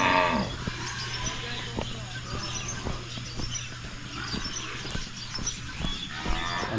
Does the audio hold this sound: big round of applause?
no